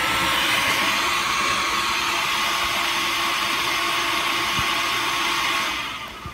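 A Mac Pro tower fitted with an ATI Radeon HD 5770 graphics card powers on, and its fans give a loud, steady whooshing whir that holds for about six seconds before easing off. No one speaks.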